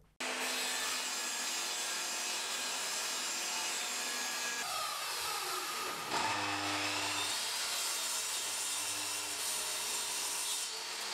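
A saw cuts through wood panels for a mudroom bench, a steady continuous rasping drone that runs nearly the whole time with a short dip in the middle, close and loud, with no talking.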